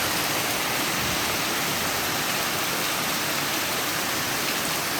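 Heavy storm rain driven by high wind pours down in a loud, dense, unbroken roar during flooding, with no voices over it.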